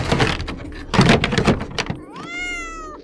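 A door in a horror video game slides open with a rising mechanical whine that settles into a steady tone, coming after a burst of rustling clatter.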